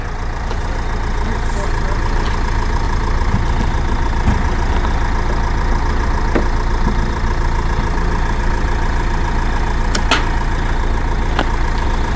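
A car engine idles close by as it is driven in: a continuous heavy rumble with occasional light knocks, and faint voices mixed underneath.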